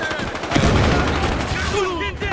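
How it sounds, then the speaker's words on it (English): Rapid gunfire in the Battlefield Hardline video game plays as dense, loud shots close by, with excited voices talking over them. "Stop shooting your gun when I'm stabbing people!"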